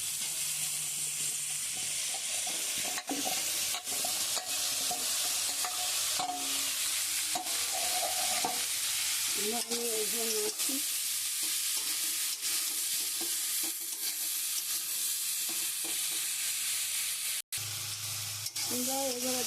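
Onion, kohlrabi and potato fry in a pan and get stirred, a loud continuous sizzle with repeated scraping strokes close by, while a voice speaks briefly over the cooking.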